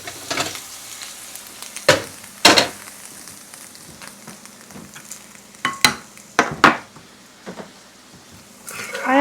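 Vegetables added to white rice in a pan, with a soft, steady sizzle broken by sharp, irregular scrapes and clatters of the spatula as the mixture is stirred, close and fairly loud.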